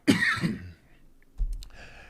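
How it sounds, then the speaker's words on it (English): A man's leftover cough: one husky throat-clearing cough bursts out up close, then a short quiet gap, and a second lower, rougher cough follows and trails off into soft breathing. "This is the leftover cough."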